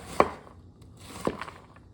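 A knife cuts up an onion on a board in a home kitchen, two distinct chopping thuds about a second apart with quiet handling in between.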